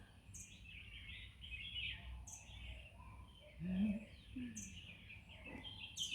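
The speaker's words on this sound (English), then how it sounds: "You can hear the birds chirping." Birds chirp and tweet intermittently outdoors, short high calls repeating every second or two over a quiet background, with a soft low coo mixed in.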